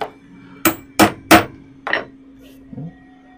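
Leather bag being worked by hand: a hammer drives a number 2 hole punch and rivets through the leather, giving three sharp, close strikes in quick succession, then a softer fourth tap and a light knock in a quiet workshop.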